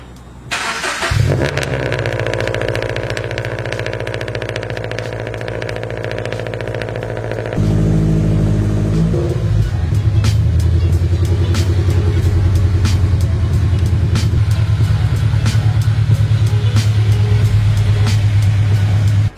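Stock Subaru BRZ engine starting and running, a loud, steady, close rumble that steps up in level partway through and continues to drone evenly, heard from inside the car.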